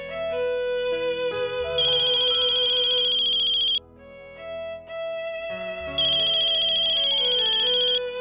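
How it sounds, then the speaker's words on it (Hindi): A mobile phone ringtone rings for an incoming call during a domestic drama scene: a loud, repeating electronic melody played in two bursts separated by a short pause, with no talking. "मारूफ, मानुमा की कॉल है, बात कर लो।"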